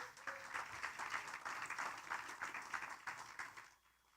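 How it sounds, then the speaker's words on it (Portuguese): A church audience gives a round of applause to the Lord, a dense, steady patter of many hands that runs for several seconds at moderate distance and then fades out. "dê uma salva de palmas ao nosso Senhor Jesus"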